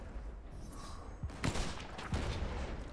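Gunfire in the pirate ship game Blazing Sails: a few sharp shots crack out at moderate distance over a rough background rumble, with the middle burst the strongest.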